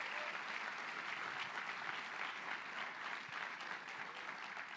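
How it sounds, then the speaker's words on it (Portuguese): A church congregation applauds together, a dense, even wash of many hands clapping at moderate volume, held steady without a break and with no talk over it. "Aleluia, aplauda o Senhor."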